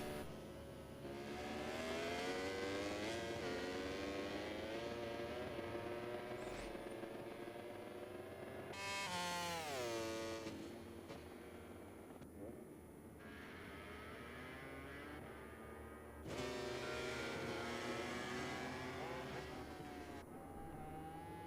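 A race car engine in a sim racing game revs up and down through several rising and falling sweeps, including one sharp high peak midway, continuous and fairly close with no voices.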